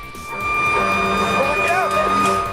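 A fire truck siren wails with rising and falling tones over a rumbling engine, loud and close, with a voice speaking over it.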